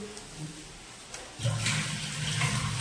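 Tap water starts running midway as hands are washed, a steady close rush that continues to the end after a quieter start.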